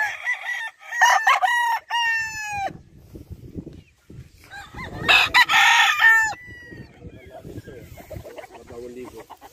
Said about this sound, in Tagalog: yan ang mga manok dito